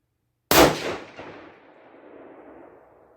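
A single sharp, loud rifle shot from a 6.5 PRC Bergara B-14 firing Barnes 140 Match Burner ammunition at an outdoor range, followed by a long, fading rumble that rolls away into the distance.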